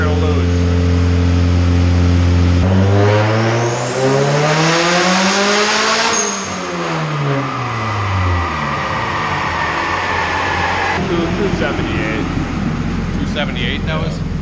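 Turbocharged Honda CR-V engine roaring through a dyno pull, climbing in pitch to a high-rpm peak, then winding down as it coasts off, with a turbo whine overhead and voices in the background.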